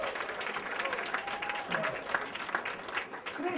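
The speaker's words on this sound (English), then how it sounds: "let's give a round of applause for our country" A stand-up comedy audience breaks into dense, steady applause that carries on throughout, with scattered cheers and voices mixed into the clapping.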